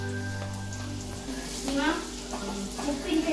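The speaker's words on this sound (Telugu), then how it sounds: "ఇప్పుడు కొద్దిగా ఉప్పు, ఇప్పుడు మిక్స్ చేసుకోవాలి." Salted food is stirred in a frying pan, with a soft continuous sizzle and scraping stirs under a voice talking.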